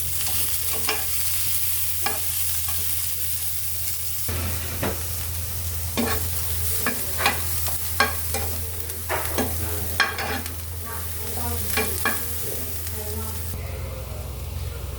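Onions stirred and fried in a little oil in a pan for a fish dish crackle and sizzle steadily up close, while a spatula scrapes and taps in a loose rhythm that grows busier midway.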